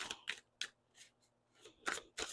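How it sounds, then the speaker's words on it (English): Large tarot cards are shuffled in a series of quiet, crisp bursts of riffling and slapping, irregularly spaced with short pauses between them, close by and faint. "These cards are a little big, so it's kind of hard for me to shuffle"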